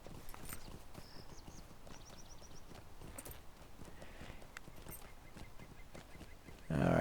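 Hooves clip-clop in a steady rhythm as a horse moves in a video game, faint and continuous, with light game chimes and a burst of louder noise at the very end.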